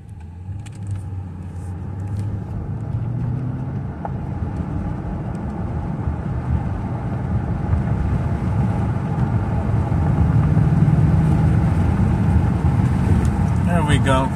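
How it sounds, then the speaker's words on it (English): A 2007 Mercedes S550 engine misfires while accelerating, making a steady, loud, rough rumble that builds gradually from inside the car, with talk over it. "it'll miss while accelerating, and after you let off, it's at a full dead miss because it shuts off the injector"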